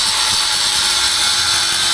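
A power tool whirs steadily and loudly at close range while working on the intermediate parking brake cable of a 1999-2007 Chevrolet Silverado.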